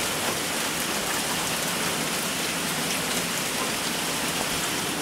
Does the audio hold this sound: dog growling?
no